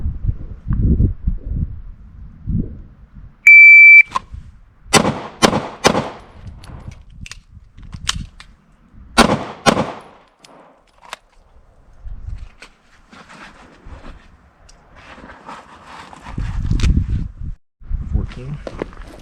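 Pistol shots in an outdoor shooting drill come in sharp loud cracks, clustered in a quick string near the middle with a few more after, amid footsteps and rustling.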